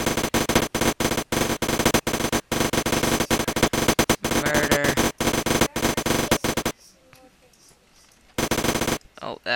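Rapid automatic gunfire in a Roblox shooter game rattles in long, loud bursts, breaks off into near silence, then resumes briefly.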